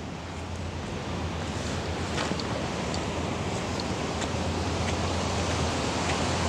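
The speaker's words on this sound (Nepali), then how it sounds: "जे होस् खोला सानो भयो होला, खोला कस्तो रहेछ हेर्नु" A small river in Melamchi flows over stones past a construction area, making a steady, loud broadband rush with no pauses or voices.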